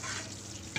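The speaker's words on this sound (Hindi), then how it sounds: "देखिए मैं इसको इस तरह से लगातार मिक्स कर रही हूँ ताकि गोंद चिपके नहीं" Edible gum fried with flour is stirred continuously in a pan for gond laddu, a steady broadband sizzle and scraping with one brief louder clink near the end, close up and with no voices.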